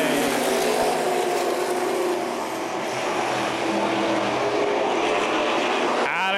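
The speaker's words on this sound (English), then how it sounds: "Here we go, back green flag racing at M-40 Speedway." Race cars roar around M-40 Speedway during a CRA Super Series 125 race, a steady dense engine drone with shifting pitch as cars pass, loud and continuous for several seconds.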